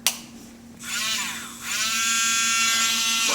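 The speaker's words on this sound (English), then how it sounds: "I got a little handheld whisker off Amazon the other day." A small handheld electric whisk spins up to make cold foam, a close high buzzing whir that rises and wavers as it churns the liquid, then settles into a steady drone, with no talk.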